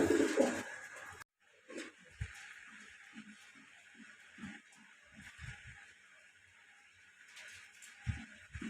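Low soft cooing of pigeons, repeated murmuring calls over a faint background hiss, fairly quiet and near.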